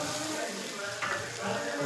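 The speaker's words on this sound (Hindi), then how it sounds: "हल्का सा पानी डाल के मसालों को अच्छे से फ्राई करेंगे" Spices sizzle and fry in oil with a splash of water for a Punjabi paneer gravy, a close, continuous crackle with a stirring scrape partway through.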